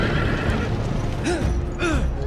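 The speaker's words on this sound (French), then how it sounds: "ce sont des chevaux" Horses neigh twice in a Game of Thrones Telltale video game, each whinny rising and falling over a steady low rumble of game ambience, with no talking.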